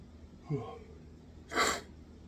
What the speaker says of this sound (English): Thought I had a sneeze.